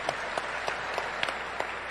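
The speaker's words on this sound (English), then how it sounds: "Big round of applause for these guys." Audience applause at a BlizzCon 2018 World of Warcraft Q&A panel, a steady wash of clapping from a large hall crowd with a few sharper individual claps standing out, moderately loud and continuous throughout.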